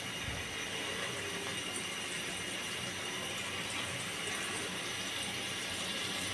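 Chicken leg pieces fry in hot white cooking oil in a frying pan, a dense, continuous bright sizzle and crackle at steady loudness throughout, close and without talk.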